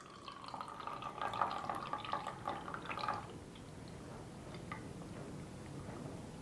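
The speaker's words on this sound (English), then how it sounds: "So I'm just pouring off the excess water." Excess water is poured off a tray of soil blocks, a close trickle and splash for about three seconds that fades to scattered drips.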